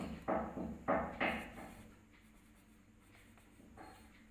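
Writing on a classroom board during a maths lesson, a few close, distinct scratchy strokes in quick bursts, then quieter fainter marks.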